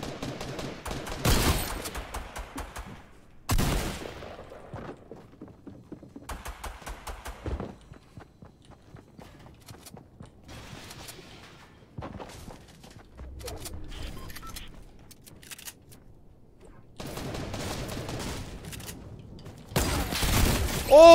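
Bursts of SMG fire in Fortnite, played on a cheap controller, come in several separate volleys with quieter stretches of game sounds and footsteps between them.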